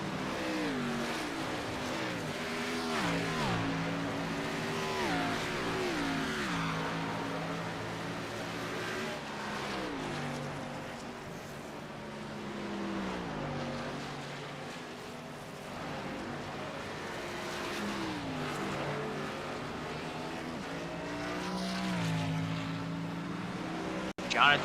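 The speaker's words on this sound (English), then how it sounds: "Here comes Alex McWhorter down pit road as well." Several race cars in a racing video game roll down pit road at the Monster Mile, a steady layered engine drone with shifting pitch sweeps as cars accelerate and pass, continuous throughout under a commentator's voice.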